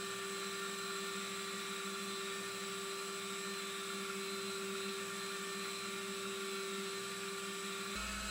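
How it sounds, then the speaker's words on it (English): A steady whirring machine drone, a number 53 drill spinning continuously at constant pitch while drilling an oil pump drive part for a model locomotive, with an abrupt shift in tone right at the end. "That gets drilled with a number 53 drill"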